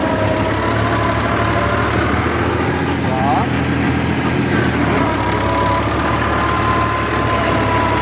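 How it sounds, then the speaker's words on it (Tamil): A tractor engine drones loud and steady throughout rotavator work on a wet village farm field, a constant close mechanical rumble with someone talking over it. "தேடி கீர் போட்டு தான் வெளியிலேயே வண்டி வருது"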